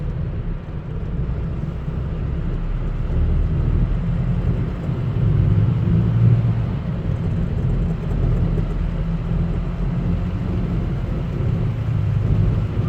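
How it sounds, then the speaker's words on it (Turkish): Steady road traffic on a busy weekday evening street during rush hour, a continuous low rumble of engines and tyres, loud and unbroken, with no talking. "yollarda bayağı trafik var kalabalık"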